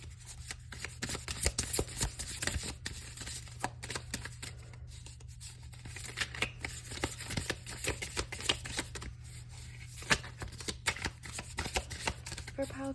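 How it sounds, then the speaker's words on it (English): Tarot cards are shuffled in the hands, a steady papery riffling and rubbing that runs throughout with a soft low hum behind it, close and fairly quiet. "it's a lot easier for me to shuffle like over here"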